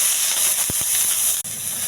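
Small onions fry in a little oil in a pan for chicken curry, a loud close steady sizzling hiss with a couple of brief bumps, without voices.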